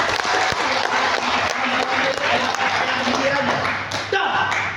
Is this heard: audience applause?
yes